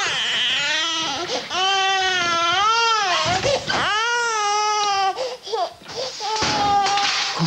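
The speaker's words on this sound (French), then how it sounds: "Ne pleure pas, mon poussin." A baby cries in a French television advertisement, loud, close wails in several long rising and falling bursts, broken by short whimpers and breaths, with no clear speech.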